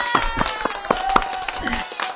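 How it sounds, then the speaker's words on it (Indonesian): Participants in an online talk session clap their hands, a few sparse, distinct claps spaced irregularly over a short stretch, with a tonal hum and faint voices underneath. "Sebelumnya supaya semangat, kita tepuk tangan dulu ya."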